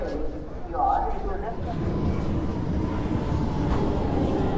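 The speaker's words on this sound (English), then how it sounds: "That's our train." A train rumbles into a station platform for Giza, Egypt, with a steady low roar and rattling, people talking nearby over the noise.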